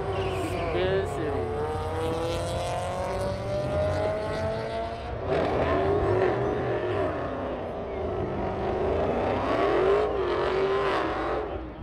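Supercharged Dodge Hellcat and Challenger drag racing, engines wailing and rising through gears with a tire squeal, loud and sustained under talking voices.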